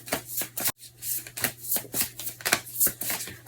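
Tarot cards riffle and shuffle in rapid crisp bursts, a run of quick papery flicks with one brief pause, close and fairly loud with no one talking.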